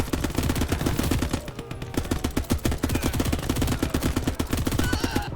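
SMG gunfire in a World War II tank and infantry game, rapid continuous bursts of shots with brief gaps, loud and dense throughout.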